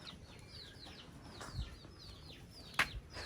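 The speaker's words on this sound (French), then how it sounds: "La poule, ça va?" A hen clucks softly on a farm field, quiet scattered clucks and chirps over a steady outdoor background, with a brief flutter or thump partway through.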